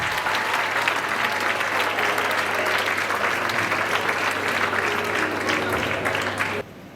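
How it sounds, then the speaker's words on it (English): Sustained, dense applause from a graduation ceremony audience, steady and loud for several seconds before cutting off abruptly near the end. "A round of applause again"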